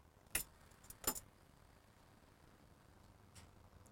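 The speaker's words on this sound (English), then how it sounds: "Turn the key to the on position." Ignition key turned to the on position in a commercial bus during an inspection: two brief metallic key clicks and jingles near the start, then a quiet cabin hum.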